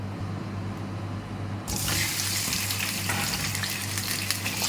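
Chandamama fish fry in oil in a pan in a kitchen in Kuwait: a low hum gives way abruptly to loud, close, continuous sizzling and spitting that holds steady to the end.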